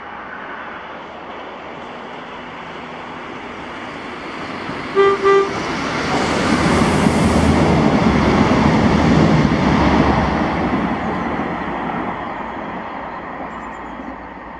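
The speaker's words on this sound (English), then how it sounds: "this is 1B52, the 1212 ScotRail service to Edinburgh from Inverness." ScotRail Inverness to Edinburgh passenger train passing Blair Atholl: a short double horn blast, then a loud rising rumble as the train rolls past close by and slowly fades away.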